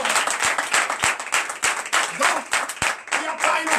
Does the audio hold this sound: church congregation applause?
yes